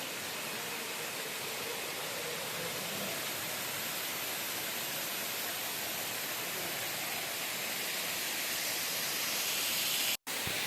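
A waterfall at a Munnar resort gives a steady, broad rushing roar, unbroken and fairly distant-sounding, filling the whole stretch with no voices before a brief dropout near the end.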